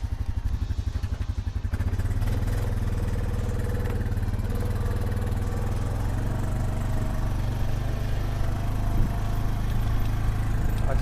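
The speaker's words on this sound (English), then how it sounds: "we're gonna hop on the four-wheeler, we're gonna drive down to that stack" A four-wheeler ATV engine runs steadily throughout, a close, continuous low mechanical drone with a faint clattering edge, rising slightly after a brief quieter start, with no talking.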